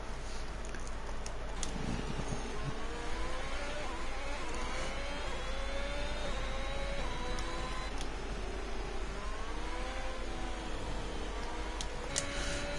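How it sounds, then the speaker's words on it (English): A Ferrari race car engine howls through a flying lap in a Formula-style racing game round in Spain, steady and fairly quiet, with rising and falling gear-change whines as it brakes into a corner and accelerates out. "Ferrari of Vetkogen is on his flyer into turn 4, taking it beautifully and on the exit."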